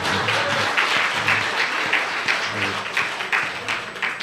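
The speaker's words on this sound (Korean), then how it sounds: "박수 한번 쳐줍니다" Applause from a church congregation during Sunday service announcements, a dense steady wash of many hands clapping throughout, fairly loud and close with a few faint voices mixed in.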